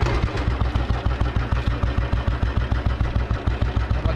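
A 1980 Royal Enfield Bullet 350 motorcycle running after a kick start, a loud, close, steady single-cylinder thump repeating rapidly and evenly throughout.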